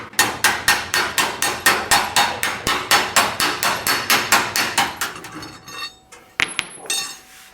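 Rapid, steady slapper blows on the sheet-metal front fender of a 1937 Zephyr, flattening hammer marks, about twenty sharp ringing strikes in a regular rhythm, then a few scattered clanks and a pause.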